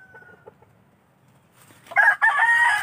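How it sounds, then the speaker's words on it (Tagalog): A gamecock rooster crows loudly near the end, preceded by quieter clucking and soft fowl sounds in the background. "mga manok na yan, mga manok panabong"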